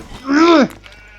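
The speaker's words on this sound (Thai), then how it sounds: "กูตีแกะแล้ว" One short, loud bleat from a sheep being hit in the survival game Craftopia, a wavering, voice-like cry lasting about half a second that is followed by quiet game ambience.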